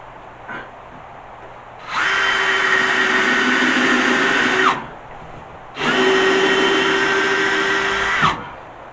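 A power drill drives screws into the wall framing for a toilet at an off-grid farm, whining in two sustained close-up runs of nearly three seconds each, with a quiet pause between them.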